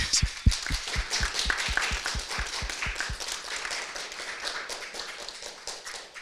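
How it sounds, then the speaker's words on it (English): A small audience at a photography symposium claps, sharp claps close and distinct early on, then thinning into a softer, steadier patter of applause that fades slowly. "Let's maybe give them applause."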